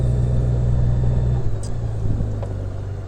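A motorcycle setting off on a short neighborhood ride, its engine a steady low rumble heard close, with a slight shift in tone partway through and wind hiss behind it.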